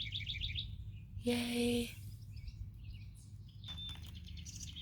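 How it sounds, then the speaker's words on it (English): Birds chirp in short repeated bursts at the start and again later, over steady background hum, with a brief loud tonal noise in the middle and a cheer near the end. "Can you hear all the birds?"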